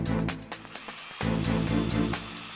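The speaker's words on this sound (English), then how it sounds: "Power drill!" A cartoon Triceratops power drill bores into rock with a whirring, grinding buzz, starting in short stuttering bursts and then settling into a steady, loud drone.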